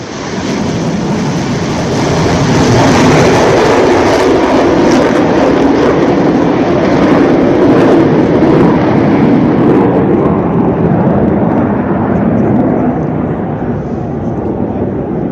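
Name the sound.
MiG-21 fighter jet flying at Chandigarh airbase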